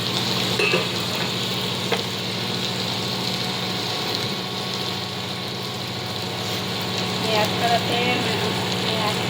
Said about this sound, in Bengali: ভালো করে আর একবার ভেজে নিলাম ভালো করে কষে নিলাম